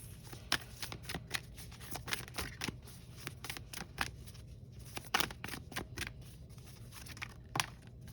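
Tarot cards being shuffled by hand, with a quick run of crisp, close riffling and sliding snaps in an irregular rhythm, alone with no talk.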